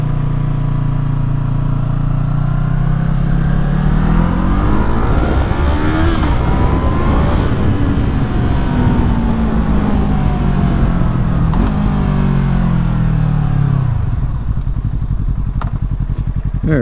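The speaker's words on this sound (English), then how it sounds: "that's full throttle" Yamaha MT03 motorcycle engine revving hard at full throttle after a throttle tube mod, loud and close with the pitch climbing and falling through repeated rev sweeps, no talking.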